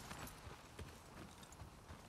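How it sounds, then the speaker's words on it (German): Horse hooves clip-clopping in The Last of Us Part II, a steady run of soft, fairly quiet hoof beats over a dense game ambience. "Wo ist unser Pferdchen?"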